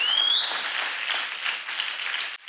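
A man clapping his own hands during a Hindi-English church sermon, heard as a dense, steady patter of claps for about two seconds, opening with a brief high whistle-like tone and cutting off abruptly near the end.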